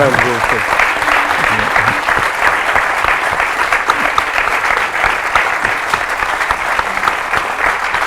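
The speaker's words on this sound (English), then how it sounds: "Let's give Henry a round of applause." An audience gives cinematographer Henry Braham a sustained, loud round of applause at a film Q&A, dense even clapping filling the room throughout.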